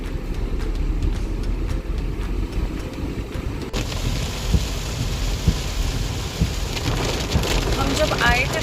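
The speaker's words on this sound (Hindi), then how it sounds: "जब हम वापस आ रहे हैं तो भी इतनी बारिश हो रही है." Heavy monsoon downpour in Goa, steady and loud, with rolling thunder rumbling underneath and a brief sharp crack or two; the rain grows denser and hissier partway through, with no talking.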